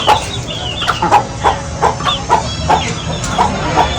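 Hungry roosters and hens cluck steadily at evening feeding time on a farm, with close, loud, rhythmic clucks arriving every fraction of a second and no talking.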